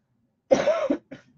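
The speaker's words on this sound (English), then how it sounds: "Get a good cough in there" A single close, harsh cough followed by a brief softer second burst, with no talking.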